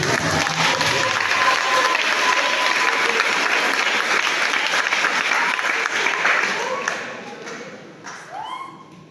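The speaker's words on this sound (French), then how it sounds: "Il faut applaudir, il faut applaudir." A church congregation applauds during a Catholic Mass at St Joseph, with sustained close clapping that fades toward the end while a few voices murmur.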